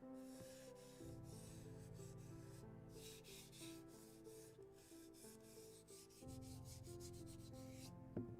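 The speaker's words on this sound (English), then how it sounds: "Don't want to sand it too much." Light sanding of primer on a 1:24 scale model sailboat hull: soft, steady rubbing strokes at close range, quiet, with a low hum running underneath and no talk.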